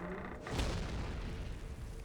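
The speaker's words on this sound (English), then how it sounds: "Cannon ready, my lord. A fine shot!" Cannon shot in Warhammer: Mark of Chaos, a single deep boom that swells and rumbles on, fairly faint and distant.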